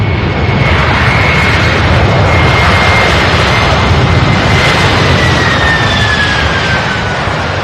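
Very loud, close jet roar from a UPS Airbus A300 on the runway at Louisville, a dense, continuous rumble with a faint whine sliding downward across it, and no talk.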